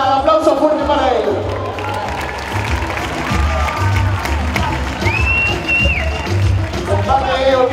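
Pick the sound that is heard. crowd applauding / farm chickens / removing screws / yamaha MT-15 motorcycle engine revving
crowd applauding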